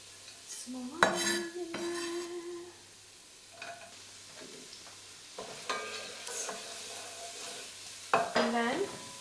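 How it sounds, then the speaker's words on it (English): Fresh ginger and a small onion stir-fried in a pot for chicken, red lentil and vegetable soup, with sizzling, stirring scrapes and clinks of utensil on pan coming and going, no talking. "The first thing we're going to stir fry is the ginger and onion, fresh ginger."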